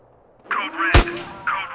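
A single sharp gunshot from GTA San Andreas Definitive Edition bangs out once, loud and close, between short bursts of voiced game chatter.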